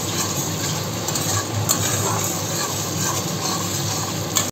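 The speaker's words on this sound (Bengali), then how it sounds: "হলুদটা দিয়ে আমরা ভালো করে মশলাটাকে নেড়ে নেব, আলুর দমের মশলাটাকে" Aloo dum masala with turmeric being stirred in a pan, a continuous close sizzle with soft scraping and occasional utensil clinks, ending abruptly, no voices.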